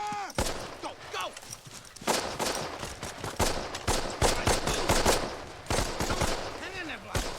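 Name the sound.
gunfire in a Band of Brothers battle scene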